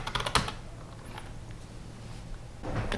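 Keyboard typing of commands during a Linux install on a PinePhone running Mobian, with a dense burst of keystrokes at the start, sparse taps in the middle and more clatter at the end, heard close and alone.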